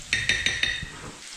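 Sweet potatoes cook in a pan, a soft sizzle under four quick metallic clinks of a utensil against the pan, close and fairly quiet.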